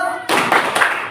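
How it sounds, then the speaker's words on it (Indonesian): Schoolchildren in an Indonesian classroom doing a focus clap, a sudden burst of hands clapping together in a quick rhythmic pattern, close and fairly loud, overlapping the end of a teacher's voice. "Tepuk fokus"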